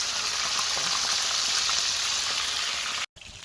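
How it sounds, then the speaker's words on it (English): Pieces of fish sizzle steadily in a very hot pan, a loud, continuous broadband frying hiss close up with no talking, cut by a brief silent break near the end. "I'm gonna let them fry on one side for about 3 to 5 minutes."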